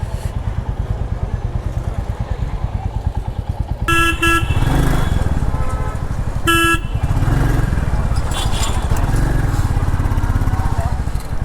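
A Royal Enfield Classic 350cc motorcycle rides through traffic, its engine droning steadily and loudly up close, while two sharp horn blasts from nearby vehicles cut in briefly, along with some faint talk.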